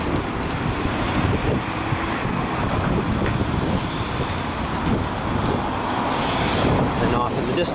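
Strong wind buffets the microphone outdoors near a railway crossing, producing a loud, constant roaring rumble that fills the whole stretch without a break.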